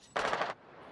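A short, loud burst of automatic machine gun fire from an enemy machine gunner in a first-person shooter video game, lasting about half a second before cutting off into quiet background.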